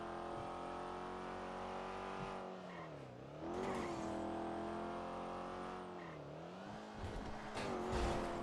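Engine of a car in the GTA RP video game revving hard, with pitch dropping twice as it brakes and climbing again on acceleration, plus brief tire squeals; loud and continuous with no talk.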